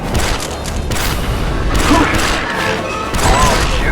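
Blaster-style gunfire and explosions from Star Wars Republic Commando on the Switch rumble in a dense, loud battle mix, with overlapping booms and mechanical clatter while squad voices speak amid the fighting.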